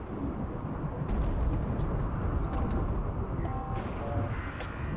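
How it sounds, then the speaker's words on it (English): Thunder rumbling through a lightning storm in the colony-building video game RimWorld, a dense, continuous low roll with rain-like hiss and a few faint higher blips, steady throughout with no voices. "Excellent lightning storm burning the place down."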